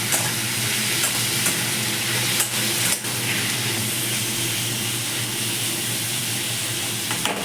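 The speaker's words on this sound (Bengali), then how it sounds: "আমি এই আলুটা ভাজতে দেবো" Potatoes with a little turmeric frying in oil with a constant close sizzle, plus a couple of brief clinks from stirring.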